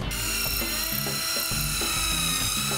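A power drill drives screws into deck boards, giving a series of short, close whirring bursts with brief pauses between them and no talking.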